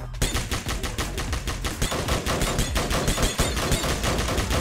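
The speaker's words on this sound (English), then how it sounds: "Looks like someone's shooting in town." Rapid automatic gunfire rattles through a town in Roblox Military Tycoon, a dense, even train of sharp shots fired in quick succession, loud and continuous with no voices.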